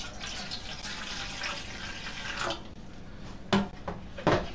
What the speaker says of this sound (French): Hop, je lui verse l'eau.